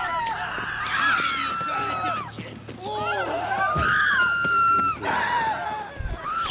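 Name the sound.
people screaming in The Witcher 3 video game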